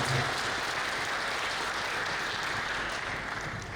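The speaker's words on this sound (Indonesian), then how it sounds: "Tepuk tangan juga untuk Pak Kapolres kita." A crowd at an Indonesian public event applauds the police chief, with dense, continuous clapping that stays loud and even throughout and no talking over it.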